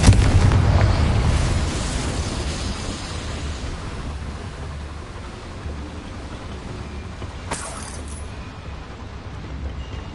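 A Confringo blast spell in the Hogwarts Legacy video game bursts at the start with a loud explosion, then a long rumbling roar fades slowly, with a faint crackle near the end.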